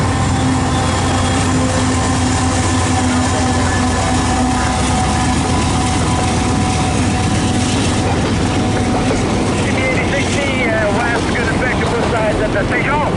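A freight train hauling auto racks and mixed freight rolls past close by, a loud continuous rumble of wheels and cars with rattling clatter and wind buffeting the microphone, while someone talks over it.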